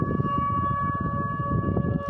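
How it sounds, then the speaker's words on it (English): Air raid sirens in Oryol, Russia wail with steady, sustained tones over a low background rumble, holding level throughout. "here are the air raid sirens sounding in Oryol."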